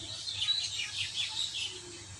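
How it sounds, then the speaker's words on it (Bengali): An old breeding pair of silver pigeons in a household pigeon coop, with faint high chirps and calls scattered over soft background noise and no voices. "এই যে এটার ভিতরে এক জোড়া কবুতর আছে,"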